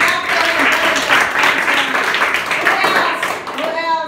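Classroom of fifth-grade pupils in an English language lab clapping hands together, a dense continuous patter of many claps lasting about four seconds, with a voice audible underneath.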